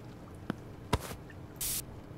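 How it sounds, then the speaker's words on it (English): Cleaning spray from the video game Internet Cafe Simulator 2, a short hissing burst late in the clip after a couple of brief clicks, faint and heard alone with no talk. "A little bit of spray."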